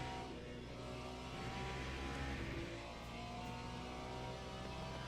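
Race cars in Le Mans Ultimate roaring steadily as a pack approaches, a dense, continuous engine drone with layered revving and no talk.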